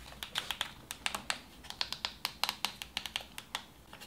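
Rapid, crisp clicks of the buttons on a Streamplify Light 14 remote, about two dozen small plastic taps in an uneven quick rhythm, close up and alone.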